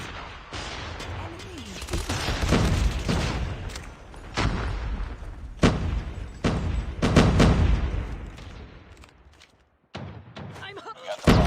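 Video game grenade blast and bursts of gunfire, heavy booming thuds and rapid shots in repeated volleys, loud and close, with a voice briefly over the action.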